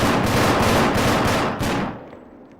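Sustained automatic gunfire rattles loudly and steadily in an ARMA 3 urban combat training match, then tapers off into a fading tail.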